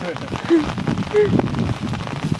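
Rain falls steadily on a surface with a soft continuous patter, close by, while voices talk over it briefly.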